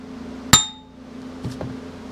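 A brass hammer strikes a Suzuki TS400 motorcycle crankshaft on a bench once, giving a sharp ringing metallic clink that fades quickly. Two faint softer taps follow.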